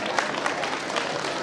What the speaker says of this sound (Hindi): और तीसरी तालियां आप बिल्कुल अपने लिए बजाइए